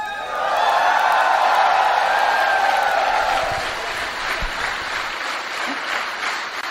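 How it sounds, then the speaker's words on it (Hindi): A crowd at a business gathering breaks into loud, sustained applause with some cheering, swelling quickly and then tapering slightly while staying continuous to the end, with no one talking. "तालियां बजाएं।"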